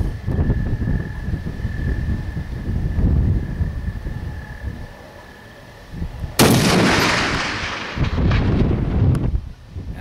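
A Barrett .50 caliber rifle fires a single shot in a rock quarry: a sudden loud, sharp blast partway through that rolls into a long echoing boom, over steady wind noise on the microphone.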